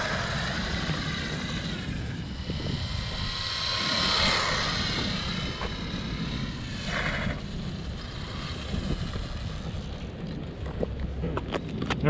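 A WLtoys 12428 1/12-scale RC 4x4 car drives at speed on a stock battery, its high electric whine and rushing motor noise continuous and fairly faint, rising and falling slightly as it passes.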